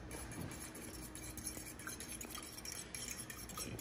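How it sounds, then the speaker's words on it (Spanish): A child beats eggs in a bowl, a continuous close scraping and clinking of utensil against the bowl with steady rapid strokes and no voices. "Qué bueno para batir los huevos, hijo"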